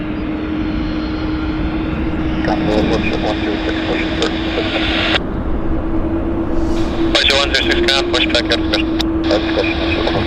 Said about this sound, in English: We got a WestJet on the approach